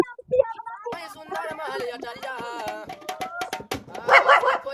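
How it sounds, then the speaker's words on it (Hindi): Dog barking in a village, a run of sharp, loud barks and yips close by, with voices talking and laughing over and between the barks. "देखा वाले कुकुर भौंकता है यार"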